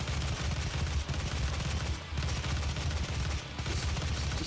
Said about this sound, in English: Yeah, I like that assault rifle. It's pretty good.